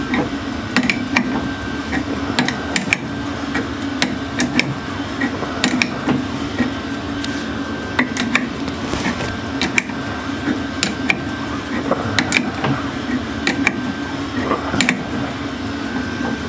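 A threading die cuts a thread onto a rod in a steam waggon oil valve workshop job, giving steady rasping, creaking metal-on-metal scraping with repeated ratchet-like clicks as the die is turned, close and continuous throughout.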